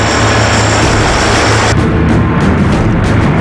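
A C-130 military transport aircraft roars loudly and steadily at close range, a dense broadband engine and propeller drone that stays constant throughout with no speech.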